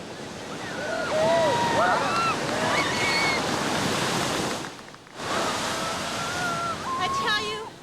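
Hawaiian ocean surf washes in a steady broad roar with wind noise, while upbeat music and voices play over it; the wash dips briefly near the middle before resuming.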